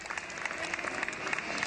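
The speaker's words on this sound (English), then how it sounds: "You can hear the applause." Spectators applaud at a control line model aircraft world championship, a brief, dense burst of steady clapping from a crowd at moderate distance.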